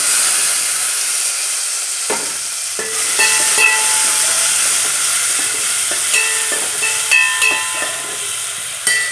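Chopped tomatoes hitting a hot oiled pan for a tamarind bean curry, a loud continuous sizzle and hiss with stirring scrapes and clinks of a spoon against the pan.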